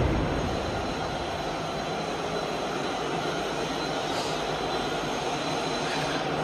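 Industrial charcoal mixer on a shisha hookah coal production line discharging its load onto a conveyor, a steady dense mechanical roar and rumble throughout with no voices.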